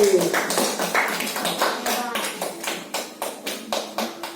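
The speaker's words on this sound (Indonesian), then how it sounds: "Tepuk tangan dulu untuk Edi." Children in a classroom clap for Edi, a loose round of applause that settles into a steady rhythmic beat of claps, close and moderately loud, with voices talking over it.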